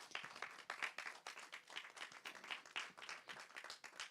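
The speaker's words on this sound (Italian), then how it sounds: "Un altro applauso per Wissal." A small audience at a hip hop feminism talk applauds a speaker, quite faint, with distinct separate claps in an uneven, sparse rhythm from a modest crowd.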